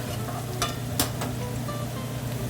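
Garlic browns in a pan with a steady, moderate sizzle and a few sharp clicks of a utensil against the pan.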